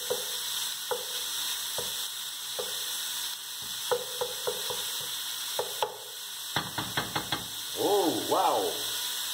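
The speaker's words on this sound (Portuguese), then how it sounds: "Vou dar uma pequena mexidinha aqui." Cassava broth frying in a pan and being stirred: a sizzling hiss runs throughout, with scattered knocks and scrapes of the spoon and a quick burst of rattling strokes near the end.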